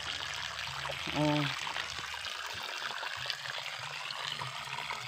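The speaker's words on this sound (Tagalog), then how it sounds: "ang mga tubig na makita nato na nagtulo-tulo sa punuan sa kahoy" Spring water drips and trickles at the base of a tree outdoors, a faint, steady trickle with a brief voice heard over it.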